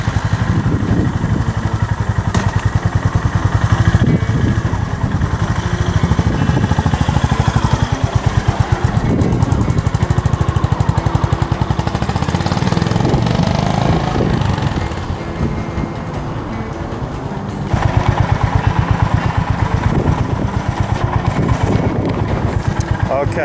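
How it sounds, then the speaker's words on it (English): A Honda GB350 motorcycle pulls away with a steady, loud engine note that holds across the clip and dips briefly mid-way before picking up again, close to the listener. "I'm now going to ride off into the sunset."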